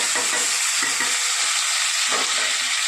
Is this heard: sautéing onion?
yes